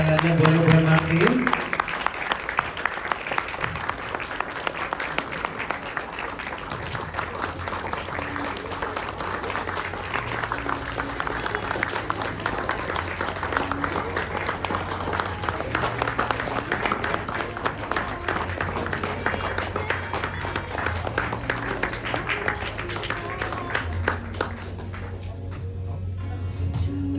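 Sustained applause from a room full of guests at a sangjit engagement ceremony welcoming groom-to-be Martin, broad and even clapping throughout with faint background music underneath, tapering slightly at the very end.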